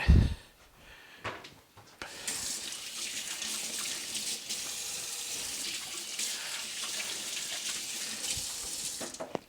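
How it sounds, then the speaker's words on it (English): A kitchen tap runs steadily with a broad hiss of water as hands are washed during brisket preparation, preceded by a few brief knocks and clatters. "I'm going to wash my hands first"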